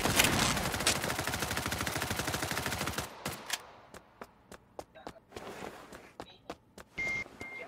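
Sustained automatic assault-rifle fire in Lost Light hammers steadily for about three seconds. A string of separate, sharper single shots and short bursts follows at varying distances.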